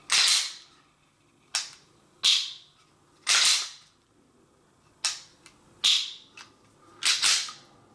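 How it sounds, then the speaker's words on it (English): Sharp mechanical clicks and snaps of a Walther PPQ SC 9mm pistol trigger breaking and resetting repeat at irregular intervals, each a crisp bright transient with a short tail, close up with no talking. "Back on the trigger, a little bit of movement, and it breaks."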